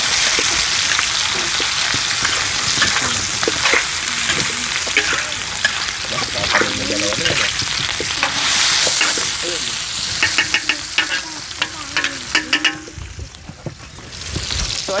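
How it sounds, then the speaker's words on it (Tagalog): Chicken gizzards sautéing for chopsuey, a loud continuous sizzle in a hot pan with scraping stirs and rattles throughout, in an outdoor mountain kitchen. "ginigisa na po natin yung ating balon-balunan"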